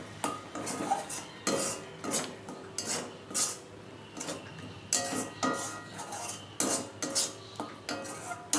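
Watermelon sandesh with raisins stirred in a pan, giving a close series of rhythmic metal spoon scrapes and clinks against the pan with short pauses between bursts and no talk.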